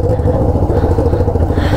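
Yamaha XJ6 motorcycle fitted with a straight-pipe exhaust of 304 stainless steel, its engine giving a steady, loud, close-up rumble with a rough, throbbing texture and no pauses.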